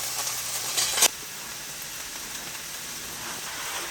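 Rice cakes with cured, fridge-dried vegetables fry in a pan, giving a steady soft sizzle with a burst of louder spattering early on that settles into a quieter, even hiss.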